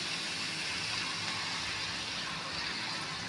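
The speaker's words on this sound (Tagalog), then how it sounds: "Ngayon, lagyan na po natin ng konting tubig." Water pouring into picadillo, ground meat cooking in a pan, makes a steady broadband gush and hiss that holds at a constant level for a few seconds, close up, with no talking.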